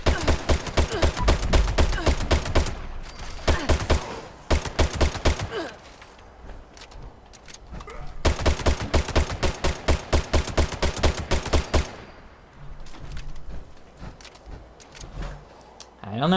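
Furious Crusader Pistol firing in Fallout 76, fired in long rapid bursts of sharp, loud shots separated by short pauses and quieter gaps, with faint mechanical handling sounds between volleys.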